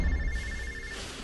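A telephone rings in a quiet room with a steady electronic ring tone lasting about a second, close and clear, with no talking.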